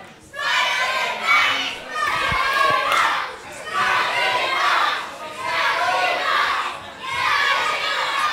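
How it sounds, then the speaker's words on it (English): A live crowd at an independent WrestleForce pro wrestling title match in Shoeburyness cheers and shouts in loud repeated surges, with a thud from the ring partway through. "And you can hear the crowd here"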